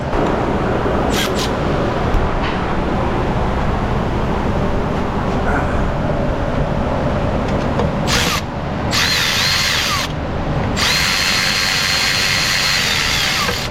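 Power tool unbolting a 10mm shield near a car starter in an auto repair shop, a loud sustained whirring drone that runs continuously with brief high-pitched whining surges near the end.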